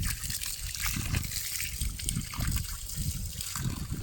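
Well water pumped by a small motor pours steadily from a pipe on a farm, a continuous near trickling gush with no pauses.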